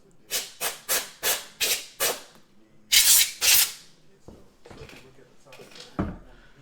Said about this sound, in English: let me get my canned air spray